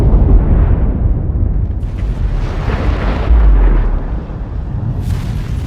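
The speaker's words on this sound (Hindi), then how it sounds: "15 मेगाटन का परमाणु बॉम्ब विस्फोट करवाया" A loud, sustained deep rumbling roar of the 15-megaton Castle Bravo nuclear bomb explosion, a ground burst, booming and rolling continuously without any voices.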